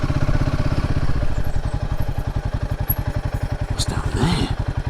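A Royal Enfield Himalayan 450 motorcycle ridden on a rough back road, its single-cylinder engine thumping in a steady, fast pulse close to the rider, with a brief rattle and shift in tone near the end.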